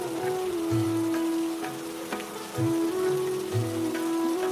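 Steady rain falls on a surface, a constant wash of patter with scattered drop hits, heard alone beneath a low, wavering tone.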